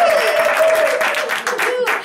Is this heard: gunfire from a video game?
no